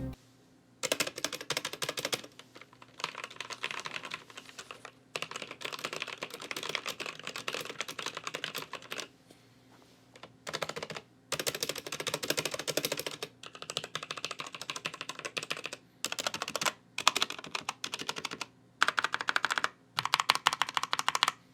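Fast bursts of typing on a cheap $15 mechanical keyboard with a hollow case and scratchy fake Cherry MX Red switches, clacking close and dry in runs separated by short pauses.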